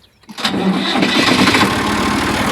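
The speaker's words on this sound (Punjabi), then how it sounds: "ਮੈਂ ਸਟਾਰਟ ਕਰਨ ਲੱਗਾ ਟਰੈਕਟਰ" A tractor engine cranks briefly after a near-silent moment, then catches and settles into a loud, steady diesel idle.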